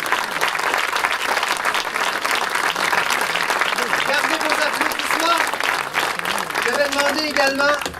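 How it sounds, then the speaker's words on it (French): A theatre audience at a historical play keeps up a loud, thick round of applause, with voices and calls rising through the clapping toward the end. "Gardez vos applaudissements."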